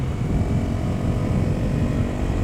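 A Honda CRF250L motorcycle engine running steadily while riding, a loud, even low drone with rumbling wind noise and no clear gear changes.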